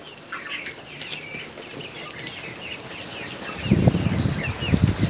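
Farm chickens feeding, with steady soft chirps and clucks throughout and louder pecking and scuffling close by during the last second and a half.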